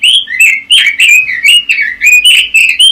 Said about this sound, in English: New Zealand robins.